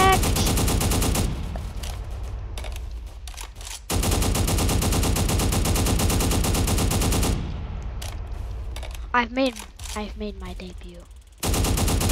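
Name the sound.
gunfire in Roblox Prison Life video game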